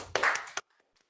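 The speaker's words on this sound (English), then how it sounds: "Congratulations and a round of applause to all of you." A brief, close burst of hands clapping from a graduation audience, lasting about half a second and ending in one sharp clap before silence.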